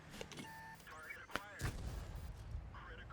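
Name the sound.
tank gun shot in the video game World of Tanks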